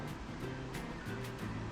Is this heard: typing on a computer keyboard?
no